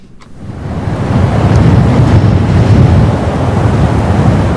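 Wind gusting across an open desert in Kazakhstan, a broad steady rush that swells in the first second and then holds loud and continuous with no voices.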